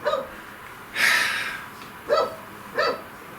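A dog barking indoors at close range, three or four loud sharp barks spaced about a second apart, with quiet panting between them and no talk.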